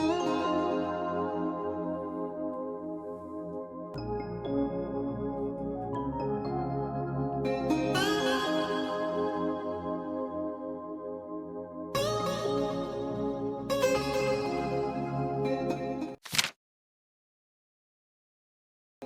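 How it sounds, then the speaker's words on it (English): A smooth RnB groove with steady beat and bass, a simple melodic line weaving over the chords, breaking off briefly before the final stretch and ending abruptly. "But this counter melody is very simple, and it's kind of leading into the next part."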